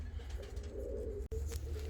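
Fancy and costume show pigeons coo in a low, repeated rumble close by, with a brief break near the middle and a few faint higher chirps over steady background hiss.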